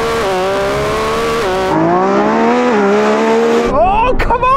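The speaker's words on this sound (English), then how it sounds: "It's still got that NA V12 sound, hasn't it?" Lamborghini Revuelto with a naturally aspirated V12 revving loud and close, a high rising howl with gear-shift dips, ending in a sharp whoosh as it passes, with voices over it.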